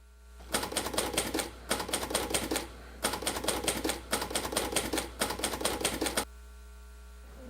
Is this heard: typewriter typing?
yes